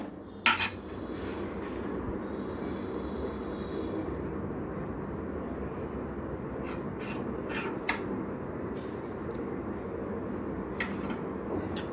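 Food being stirred and mixed in a cooking pot, a continuous low rumbling scrape with a sharp metallic clink near the start and a few faint utensil ticks later, moderately quiet with no talk.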